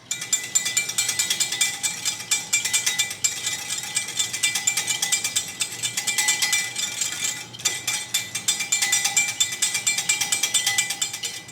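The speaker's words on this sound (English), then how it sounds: "I'm gonna whisk as I add." A whisk beats olive oil into a honey mustard vinaigrette in a bowl, a fast steady clicking and ticking that runs continuously with a brief pause midway, close and moderately loud.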